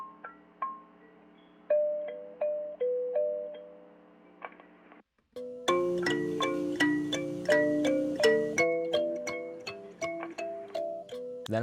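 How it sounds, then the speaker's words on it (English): Plucked kalimba notes ring out one by one in a gentle melody, then a fuller layer of denser, overlapping tines joins in, bright and close. "I was given a Kalimba as a gift a few months ago for Christmas"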